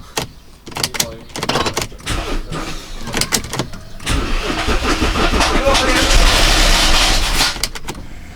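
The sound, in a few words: Audi A8 D3 engine starting with rustling noise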